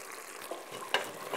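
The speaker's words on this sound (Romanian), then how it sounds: "Și amestecăm." Soft scraping and stirring of beef with paprika and cumin in a pot for Hungarian goulash, with faint sizzling underneath and one sharper clack of the utensil partway through.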